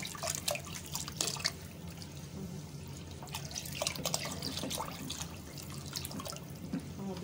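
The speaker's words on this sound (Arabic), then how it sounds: "بتزودي ميه عشان الشعريه" Water trickles and drips into a pot of rice with vermicelli on a home stove, a soft, close, continuous pouring with faint splashes and no one talking.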